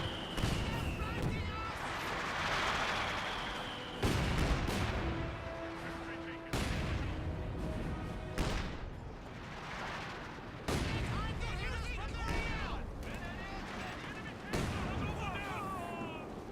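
Heavy gunfire and booming artillery from Company of Heroes 2 pound through a dense battlefield din, with repeated loud impacts every few seconds and a commentator talking underneath.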